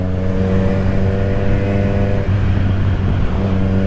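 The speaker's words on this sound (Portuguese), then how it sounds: "Acelerando aqui, rapaziada." A Kawasaki Z1000 motorcycle engine drones loud and close, a steady mid-pitched roar with rising harmonics as it accelerates on the road.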